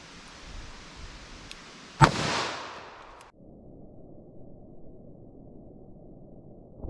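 A .357 Magnum Winchester Silvertip round fires into MDF at a ballistic test: a single loud, sharp gunshot with a brief rolling echo, then the background abruptly drops quieter.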